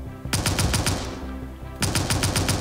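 Cannons fire in the Skyfront VR video game in two loud, rapid bursts of repeated shots separated by a short pause, with no talking.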